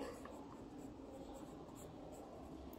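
Faint, steady scratching of writing on a board during a Sanskrit lesson, a continuous soft rasp over a low room hiss lasting a few seconds.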